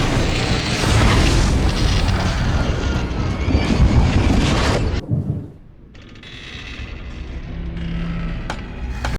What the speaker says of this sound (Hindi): और एक भयानक धमाका होता है